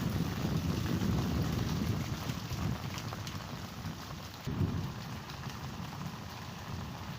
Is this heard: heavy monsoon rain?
yes